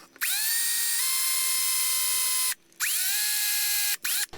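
A power drill with a Forstner bit bores into a lure master, whining up to speed in two long runs with a brief pause between, then a quick final burst; loud, close and free of talk.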